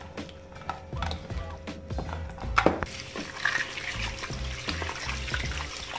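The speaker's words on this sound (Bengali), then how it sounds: "আমাদের রুই মাছ আমরা ধুয়ে ফেলেছি লবণ জল দিয়ে" Slices of rohu fish washed in salt water: steady running and splashing water from a tap, with the fish being rinsed and handled, loud and close, and no voices.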